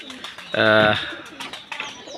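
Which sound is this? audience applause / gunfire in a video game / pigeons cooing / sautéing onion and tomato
pigeons cooing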